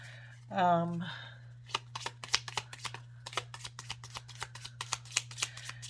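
Tarot cards riffle and shuffle in a quick close-up burst, followed by a run of sharp taps, slides and flicks as cards are moved around a table under a low steady hum, with a brief voice at the start.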